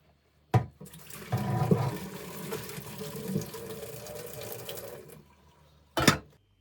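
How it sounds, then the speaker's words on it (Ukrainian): Water drained from a pot of boiled meat, then clean water poured back in while making a cheesy chicken-drumstick soup, a steady rushing pour in a kitchen sink lasting several seconds, bracketed by short clunks, with no talking. "Зараз виключаю, зливаю воду і наливаю чистої води."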